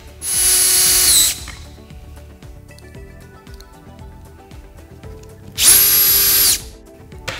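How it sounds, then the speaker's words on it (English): Two bursts from a power drill driving pocket-hole screws into a wood joint on a Kreg 300-series jig, each about a second of loud whirring that rises then stops, with quiet handling noises between. "After that, just drive in the screws."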